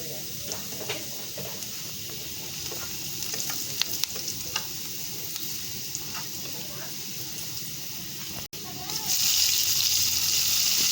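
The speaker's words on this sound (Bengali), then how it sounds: "প্যানেতে তেল আর পেঁয়াজ দেওয়া হয়েছে, মাঝখানে একটু হলুদ দেওয়া হচ্ছে তেলটার মধ্যে" Onions frying in oil in a pan with a pinch of turmeric added, giving a continuous close sizzle with light stirring scrapes; the hiss swells louder near the end, with faint talk in the background.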